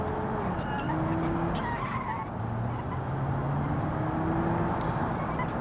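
Car tires skidding and squealing during a downshift in the Automation car game, sustained screeches under a revving engine, loud and close.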